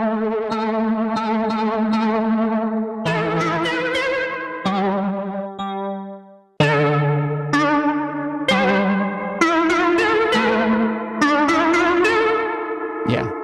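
A synthesizer plays a series of bright chords through the cassette setting of a Hologram Electronics Chroma Console, with warm, slightly wobbly tape-like saturation and distortion, pausing briefly midway before continuing.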